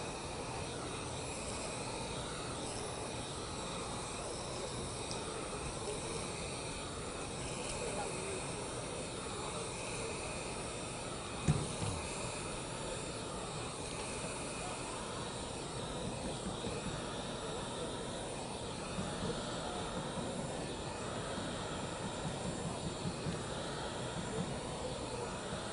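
Heat gun blowing hot air onto vinyl, a steady, fairly quiet roaring hiss that runs continuously throughout with one brief knock partway through.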